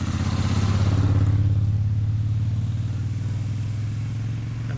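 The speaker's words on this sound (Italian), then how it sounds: "Vedete la gente che viene su in moto" Steady engine drone fills the whole stretch, a low rumble of motorbikes climbing a mountain road near Malga Ciapela in the Dolomites, fairly loud with no voices.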